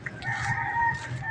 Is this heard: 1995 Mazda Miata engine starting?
no